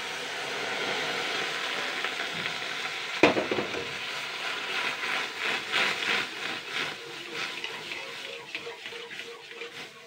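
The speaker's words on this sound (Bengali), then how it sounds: "1 কাপ পরিমাণ জল দিয়ে দেবো।" Water poured into a pan of roasting semolina for Bengali raspuli pitha, bursting into a loud, steady sizzle with a sharp hiss at the moment it hits, then bubbling and frying on with stirring scrapes.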